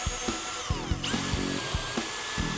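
A power drill bores a mounting hole into a wooden box, its motor whining in short bursts with rising and falling pitch and repeated thumps as the bit bites the wood, close and fairly quiet.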